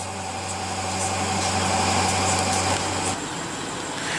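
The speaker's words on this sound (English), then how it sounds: "Listen to that engine roar." A 2015 BMW 650i Gran Coupe's 4.4-liter twin-turbo V8 idles steadily with a low, even hum and a faint whine, holding constant for several seconds before easing slightly.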